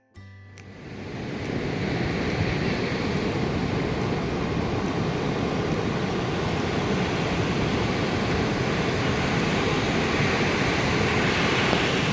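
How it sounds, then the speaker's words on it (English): Ocean waves at a beach give a steady, broad wash of surf mixed with wind rumbling on the microphone, continuous and fairly loud, with no voices. "I'm currently at the beach"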